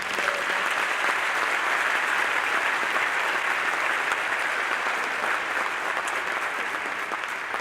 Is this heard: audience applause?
yes